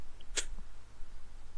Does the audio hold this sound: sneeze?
yes